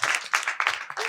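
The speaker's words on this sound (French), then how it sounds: "Applaudissez pour elle." Applause breaks out from a television studio audience, bursts of dense hand clapping swelling and fading in short waves, with a faint voice briefly near the end.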